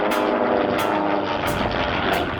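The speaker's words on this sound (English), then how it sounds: "flying at full throttle" A light aircraft engine roars at full throttle as the plane flies low, a steady loud propeller drone with a pulsing rhythm that fills the whole span, with no voices.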